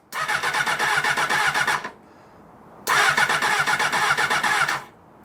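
A cafe racer motorcycle engine cranks on the starter, loud and close, in a long rhythmic burst. After a short pause it cranks again in a second burst, with no steady idle catching.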